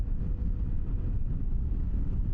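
Steady low rumbling wind gusts buffet the microphone of a riding camera, a dense roar with no talking.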